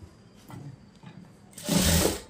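A sewing machine stitching a folded hem on a boat-neck blouse starts with a few soft taps and handling sounds, then runs in one loud, fast burst for under a second near the end.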